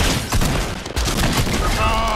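A sustained burst of loud gunfire from the video game Fortnite, with rapid overlapping shots and a brief dip partway through before the firing resumes.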